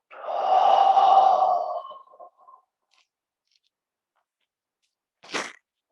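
One long audible exhale during a qigong exercise, close and soft, fading out into quiet, followed later by a short sharp breath or sniff.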